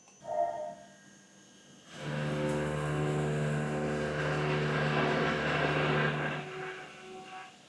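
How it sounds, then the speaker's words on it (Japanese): A Kennametal 10 mm end mill with a 5 mm corner radius helically ramps into metal at a 15-degree ramp angle; the steady, bright machining tone starts abruptly after a quiet lead-in, holds for several seconds, then fades. "ヘリカルのランプ角を変えて加工してみましょう。 15度。"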